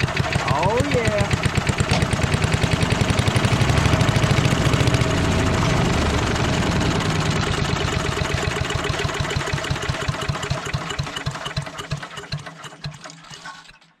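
A small wood chipper's engine, just repaired, runs with a rapid, loud, steady chattering putter for about twelve seconds before fading out, with a voice speaking briefly near the start.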